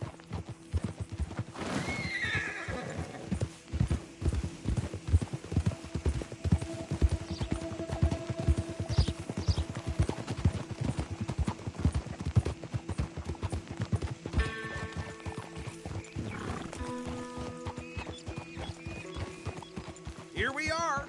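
Horse hooves clip-clopping steadily in Red Dead Redemption 2, a rhythmic clatter under game music with a neigh or two, while game characters talk through much of the ride.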